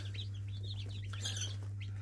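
Soft, high chirps from small, multicoloured chicks, repeated irregularly over a steady low mechanical hum.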